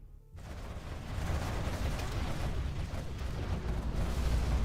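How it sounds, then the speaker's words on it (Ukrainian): A loud, dense boom of artillery fire in Command & Conquer: Generals Zero Hour with sustained low rumble and crackling, continuous heavy battle noise throughout. "Ще один постріл."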